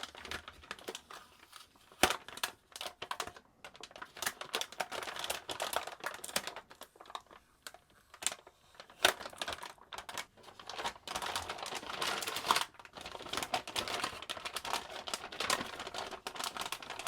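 Yellow tape is peeled and crinkled off a sealed anti-static bag holding a graphics card, producing close, irregular crackling and rustling bursts with sharp snaps throughout.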